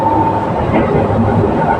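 A Singapore MRT metro train rumbles loudly and steadily from inside the carriage, a close, continuous rolling hum without a break.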